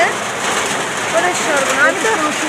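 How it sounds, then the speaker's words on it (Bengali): Heavy monsoon rain falls in a steady close hiss of splashing drops while a person talks over it. "এত বৃষ্টি হচ্ছে, আমার ছেলের গায়ে ছিটে ছিটে এসে পড়ছে বৃষ্টি"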